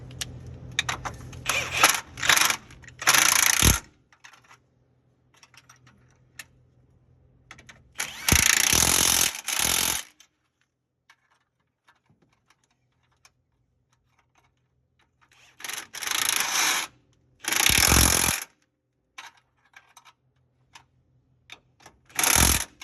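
Several loud bursts of an impact wrench tightening motor mount bolts on a GM C1500 pickup rattle in short clusters, separated by quiet pauses with faint mechanical clicks.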